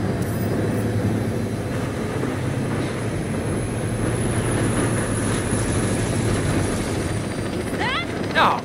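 A train in the video game Saints Row rumbles loudly and continuously with a heavy mechanical roar and a high whine, then a brief squeal near the end.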